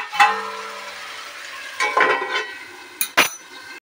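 Beef chap stirred in a pan of hot oil, restaurant style: a spatula scrapes and clinks against the pan in a few short strokes over a soft sizzle.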